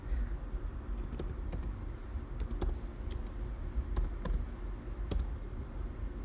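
Typing on a computer keyboard at a Linux terminal, a steady run of light clicking keystrokes in irregular bursts, close and fairly quiet.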